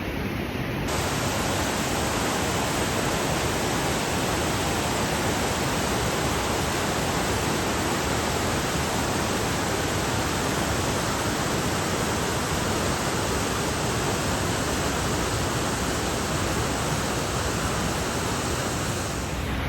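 Rushing water roars continuously at a park waterfall, a dense, even wash of broadband noise close by, steady throughout with no breaks.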